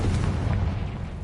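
A Confringo spell explosion in a Harry Potter video game, a deep, sustained rumbling boom that fills the whole moment with heavy low-end weight.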